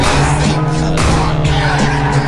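Car engine revving and tires skidding in a mobile video game, a steady loud synthetic engine drone with squealing slides throughout.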